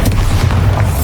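A Bombarda spell in the Hogwarts Legacy video game bursts in a single loud, low booming explosion that fills the moment, with no talking over it.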